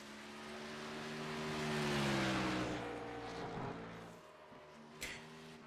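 A race car on a road course at night backs down through the gears into a turn, its engine note dropping in steady falling tones before a sharp brief clack near the end.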